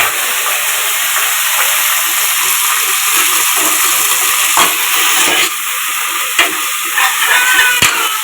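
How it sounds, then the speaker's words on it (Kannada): Fenugreek leaves frying in a pan for a village-style egg and chicken curry, giving a steady, close sizzle and hiss throughout with a few brief clicks of stirring. "ಇದನ್ನ ಫ್ರೈ ಮಾಡ್ಕೊಳ್ಳೋಣ"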